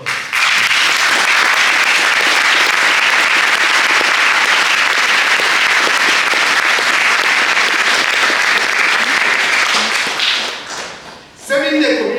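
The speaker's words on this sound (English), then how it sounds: "Let's give them a very big applause." A large audience at a Lord Mayor's swearing-in ceremony in Oxford gives loud, dense, continuous applause for about ten seconds before it dies away and a speaker's voice begins.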